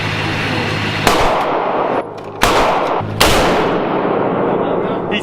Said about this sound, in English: Shooting the Draco.